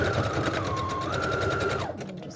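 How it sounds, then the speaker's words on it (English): A sewing machine runs steadily as it stitches ripped pieces of muslin together into one long strip, a continuous close motor whir with a sustained pitch that shifts slightly midway, then winds down near the end. "I'm just going to sew a couple of ripped pieces of muslin together to have one long piece"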